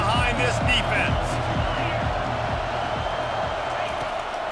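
Steady roar of a stadium crowd in the football video game EA Sports College Football 25, rising behind the defense on a third down, with a commentator talking over the noise throughout.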